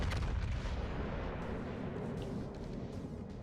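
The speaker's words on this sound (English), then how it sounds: "I got my rear cannon." A warship's rear cannon fires in the World of Warships Legends game, a loud deep boom rolling into a long rumbling decay that slowly fades over a few seconds.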